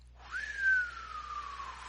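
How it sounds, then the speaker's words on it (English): A single eerie whistle, said to have been recorded by astronauts on the far side of the moon, rises quickly and then glides slowly downward, clear and fairly faint over a low hum. "It was a strange whistling noise."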